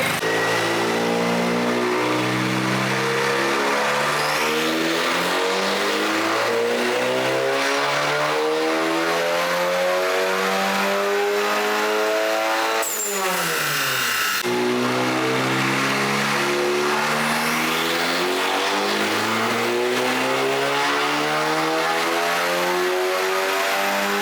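A VW Mk8 GTI running E85 flex fuel on a dyno revs hard through the gears, its engine note rising in long sweeping pulls with a brief drop between shifts, loud and close with no talk.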